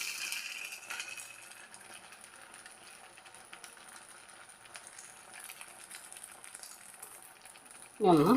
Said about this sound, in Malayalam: അപ്പം നമുക്കിനിത് ഓരോ തവി നമുക്ക് ഈ ഒരു എണ്ണയിലേക്ക് അങ്ങ് ഒഴിച്ചു കൊടുക്കാം